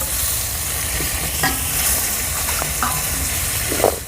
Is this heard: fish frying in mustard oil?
yes